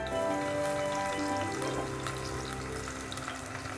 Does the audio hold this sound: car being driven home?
no